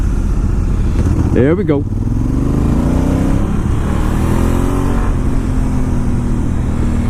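Honda Africa Twin motorcycle under way past roundabouts, steady engine and road drone close by throughout, with a rider speaking briefly over it.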